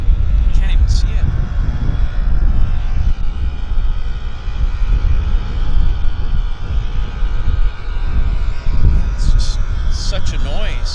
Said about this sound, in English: That's a propeller plane doing engine run-ups